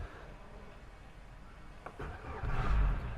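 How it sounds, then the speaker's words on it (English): Boat engines start and rumble steadily, then surge louder near the end as they rev up, close by at a dock with no voices. "First thing is turn the engines on."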